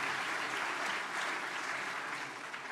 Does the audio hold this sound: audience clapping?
yes